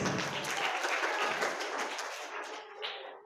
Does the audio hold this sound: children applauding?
yes